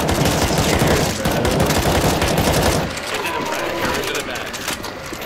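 Sustained machine gun fire in the video game CS:GO zombie escape mode, dense rapid shots that continue loudly before easing to a quieter background clatter, with talk over it.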